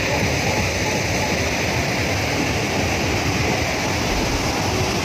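Bhimkund waterfall roars in a dense, continuous rush of falling water, loud and close and unbroken throughout the few seconds.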